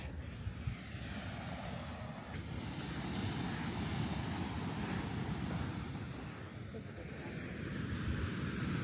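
Ocean waves wash continuously onto a short beach on the Outer Banks, a loud, broad rushing roar mixed with wind buffeting the microphone, with no clear breaks between surges.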